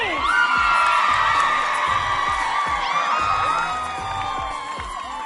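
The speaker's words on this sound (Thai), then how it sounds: "ตอนนี้ขอเสียงกรี๊ดดังๆ" A reality singing show audience cheers and screams with high-pitched shrieks and whoops, loud and sustained, tapering off slightly toward the end.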